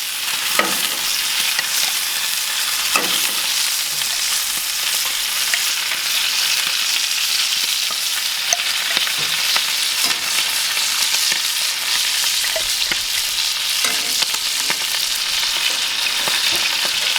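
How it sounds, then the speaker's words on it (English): Clarified butter sizzles with steak in a frying pan, a steady, bright, crackling hiss that runs without a break at close range, with faint occasional pops and no voices. "Now we're going to add in our clarified butter."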